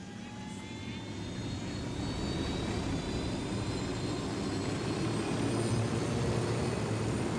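Aircraft engine from Ghost Recon as the player takes the pilot seat, a steady droning roar that swells slightly and holds loud throughout, with thin high whining tones over a broad rumble.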